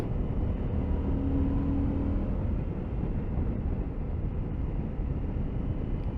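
A 2022 CF Moto 800MT motorcycle engine at about 4,500 revs, riding two-up on a touring road, heard as a steady low drone mixed with wind rush, constant and fairly loud.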